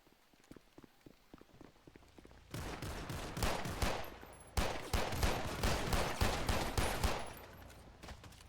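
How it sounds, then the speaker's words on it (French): Gunfire in a shootout within a roleplay video game, quiet scattered shots at first, then sudden loud sustained bursts of rapid automatic fire that continue with brief breaks, close and intense. "On va en fusillade, les collègues, on a besoin de renfort à mort là."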